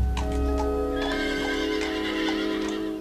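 Horse at a Red Cross therapeutic riding program for veterans, whinnying through a steady outdoor background with faint hoof clops, no talking.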